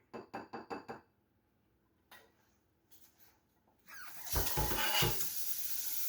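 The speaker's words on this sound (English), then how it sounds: "I'm gonna go ahead and put this pan in the stove or in the sink." A hot pan, used for cooking bran cereal, is set into a kitchen sink, giving a quick run of sharp metallic clinks followed by a few light knocks and then a louder clattering, rushing burst close by.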